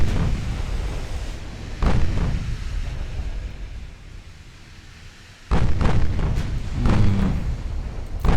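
Distant battleship guns fire in the naval warfare game Ultimate Admiral Dreadnoughts as two heavy booming salvos with rolling rumbles, heard over a low wind and sea wash.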